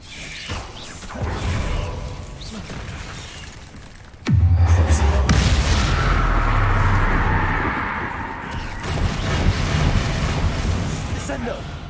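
Flipendo and Confringo spells cast in a wizarding video game, with a sharp crack followed by a loud, sustained crashing blast that rumbles and fades over several seconds, amid quieter background game sounds.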